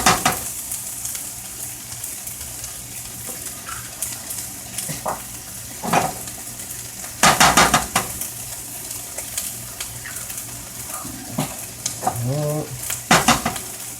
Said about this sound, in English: And remember to keep stirring this stuff. Don't let it stick to the pan.